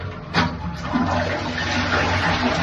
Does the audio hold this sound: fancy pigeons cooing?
no